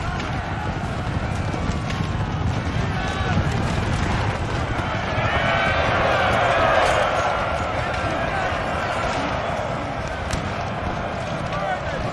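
Dragoons make a cavalry charge in Napoleon: Total War, with a dense, continuous drumming of many hooves over a background of battle noise. The sound holds steady throughout at a loud level.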